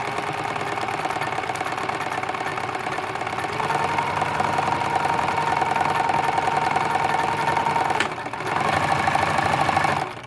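A Necchi 3101 sewing machine stitches steadily, its motor whirring with a fast, even mechanical chatter that grows slightly louder midway, pauses briefly, then resumes before stopping.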